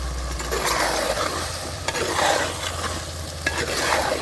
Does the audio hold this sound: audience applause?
no